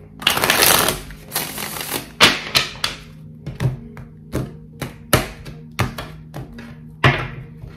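A slippery deck of tarot cards shuffled by hand: a long riffling burst followed by a string of sharp taps and flicks as the cards are squared and cut, close and with no talk.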